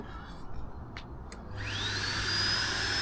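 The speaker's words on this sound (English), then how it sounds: "But it's happy to power the vacuum cleaner." A vacuum cleaner running off a Bluetti AC70 battery power station starts up after a few handling knocks, spinning up into a steady loud whine and roar.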